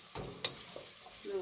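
Onions and peppers are added to a hot pan for a vegetable dish. A brief, soft sizzle comes with a stirring scrape.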